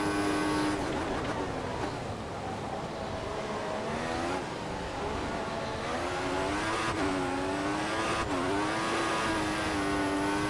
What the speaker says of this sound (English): Oh, wheel spin again on that crest.